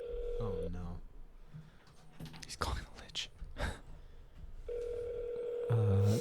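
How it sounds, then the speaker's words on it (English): During a tabletop Dungeons & Dragons game, a phone call is placed: a steady dial tone at both ends brackets a short series of dialing beeps, with murmured voices and shuffling in between. "pulled his phone out and is making a phone call in the middle of our D&D Gary game"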